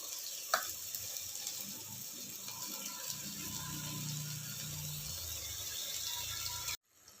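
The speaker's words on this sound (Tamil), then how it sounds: "இதுக்குள்ளே சிக்கன் போட்டு வதக்குங்க." Chicken pieces sauté in a pan for a chicken curry, giving a steady close sizzle with faint stirring and scraping, which cuts off abruptly at the end.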